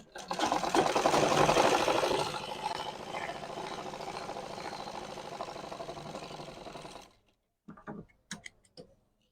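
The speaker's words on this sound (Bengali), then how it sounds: "এই যে দেখেন এখান থেকে সেলাই দিলাম" A sewing machine stitches cloth for a trouser zipper strip in a tailoring class, giving a loud, fast rhythmic whirring patter for about seven seconds before stopping, followed by a few faint clicks and handling sounds.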